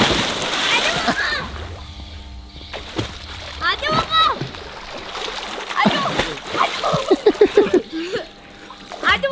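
Water splashes and sloshes in a swimming pool, with intermittent splashing bursts throughout while children and adults talk and call out nearby.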